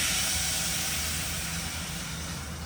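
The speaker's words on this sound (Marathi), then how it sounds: "आता मी ते डाळीची फोडणी केली, त्यामध्ये थोडंसं पाणी टाकतो." A little water poured into hot Marathi-style dal tempering gives off a loud, broad hiss that starts strong and eases slightly, close and steady with no voices.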